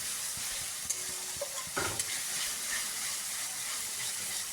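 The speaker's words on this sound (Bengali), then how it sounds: "তো ভালো করে ভাজতে হবে।" Onions fry in a pan with a steady, soft sizzling hiss that runs throughout, broken by a few light clicks and scrapes, with no voices.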